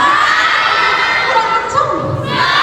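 An expo crowd shouts and cheers together in a loud, dense roar of mostly young voices, sustained for a couple of seconds with a brief swell near the end.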